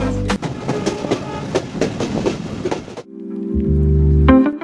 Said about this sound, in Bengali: ট্রেনের এত শব্দ, আপনারা আমার কথা শুনতে পাচ্ছেন কিনা জানি না।